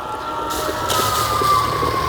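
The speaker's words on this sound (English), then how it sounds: "As you hear the Sirens going off." Emergency sirens wail steadily at a moderate distance, the tone holding over a low rumble of traffic and outdoor noise.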